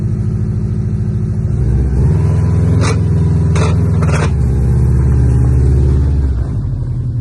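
A Subaru with a five-speed manual gearbox climbs a hill with a suspected gear fault, its engine droning loudly and steadily inside the cabin, the pitch dropping and shifting at gear changes, with a few brief clicks.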